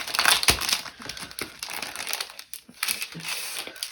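Crinkly plastic packaging of a Hunkydory Violet Delights craft topper set is opened, giving close, loud crackling and crumpling bursts that continue unevenly throughout with no talking.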